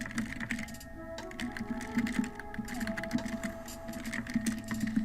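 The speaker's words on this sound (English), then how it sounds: "let's center our cursor, tab down 4 times, and type in our title" Keystrokes on a computer keyboard while entering text in Word 2013 patter in quick, uneven clicks under a steady electrical hum, close and clear, with no voice.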